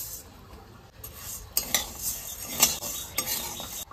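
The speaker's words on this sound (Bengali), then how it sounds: "এটা ধনে, এটা জিরে, তো এটা আমি ভেজে নিই আগে।" Coriander and cumin seeds are dry-roasted in a pan and stirred with a utensil, giving soft rustling scrapes and several light metallic clinks against the pan at an uneven pace, with no talking.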